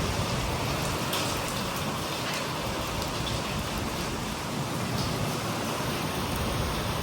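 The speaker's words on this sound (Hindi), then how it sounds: "बहुत बारिश पड़ रही है।" Heavy rain pours in a steady, dense hiss, loud and unbroken from start to finish with no voices over it.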